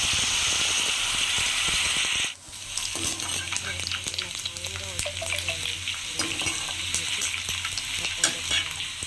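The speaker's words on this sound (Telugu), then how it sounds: "మళ్ళీ వాటిని మనం ఆయిల్లో వేయించుకోవాలి." Soaked dried prawns dropped into hot oil for a spicy prawn pickle: a loud steady hiss shifts abruptly into vigorous crackling, popping sizzle that continues close and strong.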